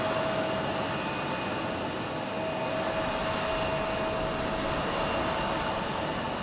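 Air France jet airliner departing Phoenix Sky Harbor for Paris, a steady broadband engine roar with a faint whine, continuous and fairly distant.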